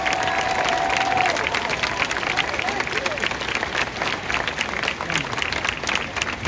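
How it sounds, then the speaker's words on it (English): A crowd at an outdoor protest rally applauds and cheers, dense steady clapping holding loud throughout with scattered shouts mixed in. "I want you all to receive him with a hearty hand clap."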